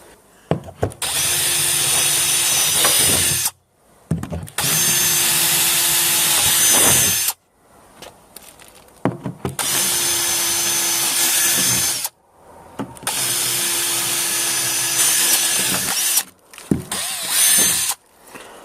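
A power drill bores holes into a boat hull during epoxy prep work, running in four long, loud whining bursts separated by short silent pauses.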